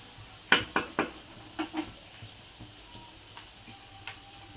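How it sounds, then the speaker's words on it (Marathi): Green chillies frying in a pan for kanda poha, a soft background sizzle punctuated by several sharp spatula taps against the pan early on, then a lone tap later. "एक 5 ते 2 मिनिटं ह्याला मिरची पहिला परतून घ्यायची अशी।"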